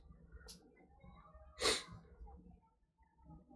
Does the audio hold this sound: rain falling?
no